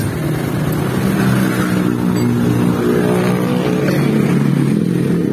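A motorcycle engine, rebuilt with a 50 oversize piston and rebored cylinder after seizing from running without oil, runs close up under a light throttle with a steady, loud, rumbling drone and no talk.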